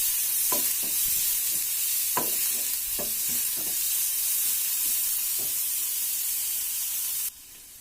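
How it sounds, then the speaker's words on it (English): Onions frying in a pan, heard as a steady loud sizzle and hiss with repeated spoon scrapes and stirs against the pan. The sound is close and unbroken, with no voices, and it cuts off sharply just before the end. "So the onions are getting fried,"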